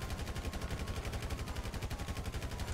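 Sustained rapid automatic gunfire from GTA 5 with mods, a dense, loud, continuous rattle of shots throughout, with no talk over it.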